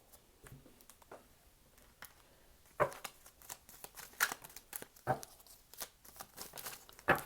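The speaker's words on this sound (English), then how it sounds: "Sorry about the long shuffling." Tarot cards are shuffled close up, a soft, irregular patter of riffles and slaps with a few sharper snaps, faint and with no talking.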